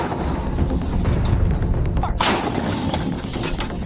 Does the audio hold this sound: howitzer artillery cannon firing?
yes